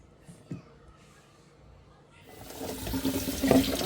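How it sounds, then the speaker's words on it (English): Kitchen tap water runs into a sink to rinse non-organic produce, a steady splashing flow that swells in after a quiet start with a few small handling sounds. "Alright, let me give these a rinse."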